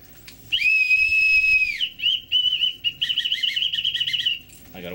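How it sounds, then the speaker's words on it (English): A small plastic toy whistle from a Christmas cracker is blown close by, first as one long shrill steady tone, then as a string of shorter warbling toots and trills. "a whistle. Awesome."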